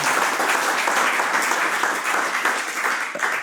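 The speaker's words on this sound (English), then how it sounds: "a round of applause" A live audience gives a sustained round of applause after a presentation, dense even clapping filling the room at steady loudness for the whole stretch, with no talk over it.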